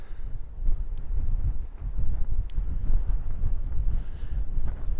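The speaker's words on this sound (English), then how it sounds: "Well, this wind's getting really strong." Strong wind buffets the microphone on a coastal walk near Minehead at the edge of Exmoor, a steady loud roar with gusty surges throughout and no speech.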